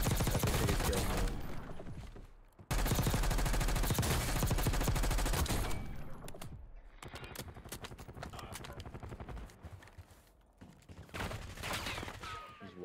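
Call of Duty XM4 rifle gunfire in a match: bursts of loud, close automatic shots with short gaps between volleys, fading into a quieter stretch before another burst, with a voice talking faintly underneath.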